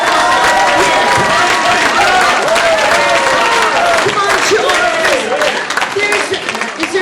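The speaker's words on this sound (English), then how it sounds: "give him a round of applause" Audience at a comedy tribute show clapping and cheering for a man called Charles, sustained loud applause with voices over it, tapering slightly toward the end.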